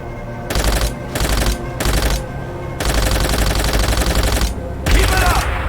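Sustained bursts of machine-gun fire in the Call of Duty: World at War campaign, loud and close, coming in several long volleys separated by short pauses.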